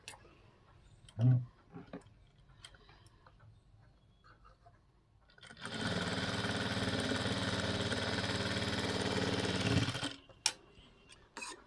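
A sewing machine runs a long stretch of large stitches on a blouse, a rapid steady mechanical whirring and ticking that lasts about four seconds, with quiet handling clicks before and after.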